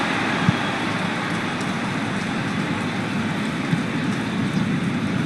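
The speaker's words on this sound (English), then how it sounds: "The clouds have opened and it is raining" Steady, loud hiss of rain falls during a football match in PES 2021, a continuous dense wash with a few faint thuds and no talk over it.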